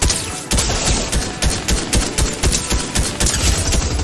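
Rapid bursts of video game gunfire in Fortnite crack out in quick, uneven volleys, loud and close, with short gaps between clusters of shots.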